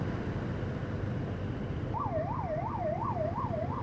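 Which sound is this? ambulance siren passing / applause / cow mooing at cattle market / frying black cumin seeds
ambulance siren passing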